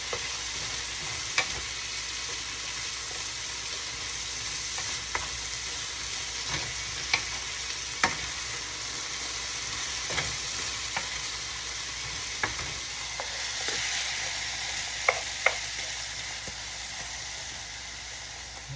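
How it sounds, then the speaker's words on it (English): Vegetables frying in a pan for a chipotle meal, a steady sizzle under scattered clinks and scrapes of a utensil stirring them, close and moderately loud throughout. "So I'm going to give the vegetables a nice stir."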